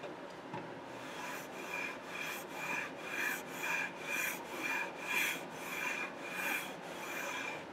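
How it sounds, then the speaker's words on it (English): Coarse steel wool with Old English polish scrubs over a piano's aged lacquer finish in steady back-and-forth strokes, about a dozen rhythmic rasping passes, close and clear with no speech. "Next, we rub it down with the Old English, with a nice coarse steel wool."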